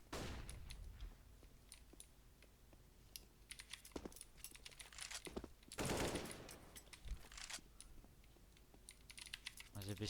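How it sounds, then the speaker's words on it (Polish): Rapid clicking of a computer keyboard, with bursts of fast typing and quieter pauses, heard faintly and fairly close. "Klawiaturę słychać."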